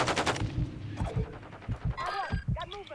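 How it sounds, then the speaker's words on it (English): Rapid bursts of gunfire from Call of Duty Modern Warfare 2 multiplayer ranked play, loud repeated shots in quick rhythm mixed with game sound effects, with a player talking over the action. "someone shooting at me"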